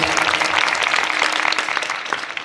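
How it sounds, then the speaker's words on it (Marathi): An audience at a comedy kirtan applauds the singer with a burst of loud, dense clapping that stays full and then starts to thin near the end. "गुरुजीसाठी जोरदार टाळी होऊन जाऊ."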